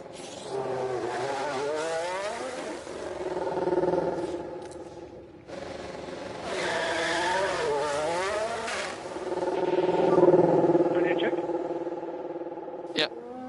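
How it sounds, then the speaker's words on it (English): Formula 1 cars in the video game F1 Manager 23 pulling out at Sakhir, engines whining and rising in pitch through gear changes in several passing waves, loud and near, with radio chatter underneath. "let's send our cars out for the first time this season"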